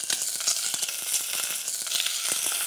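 Chicken wings fry in hot, smoking oil with a dense, loud sizzle, crackling and spitting continuously with small pops throughout, close up and with no talk.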